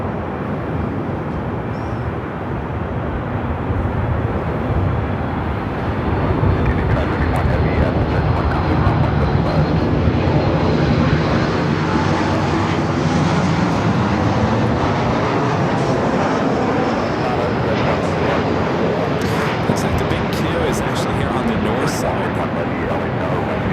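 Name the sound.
airliner at LAX airport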